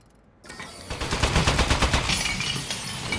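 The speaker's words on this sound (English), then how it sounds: "All right, shoot again." Gunfire from a turret in the video game Aperture Desk Job, a rapid rattling burst of shots that starts abruptly after a quiet moment and keeps going with mechanical clatter and a rising hiss.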